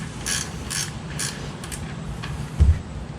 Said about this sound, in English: next we're going to loosen up this bolt on the other side too, for the exhaust